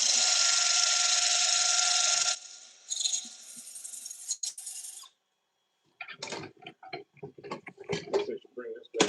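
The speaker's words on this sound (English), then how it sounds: "do a little bit of quick sanding on it" A steady, loud abrasive whir of wood being sanded on a spinning lathe runs for about two seconds, then fades into quieter clatter and talking.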